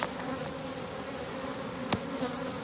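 A cluster of honey bees around their queen gives a dense, steady buzzing hum up close, with one brief sharp click partway through.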